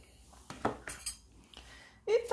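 A metal spoon dropped into a box of kitchen utensils, giving a few light clinks and clatters of cutlery, fairly close and quiet, with one brighter chink at the end.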